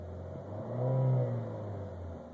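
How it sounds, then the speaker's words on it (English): A 2013 Chevy Sonic's 4-cylinder engine revs once close by, swelling and settling back, with a faint whirring turbocharger whine riding over the rising engine note. "You hear that turbocharger in there."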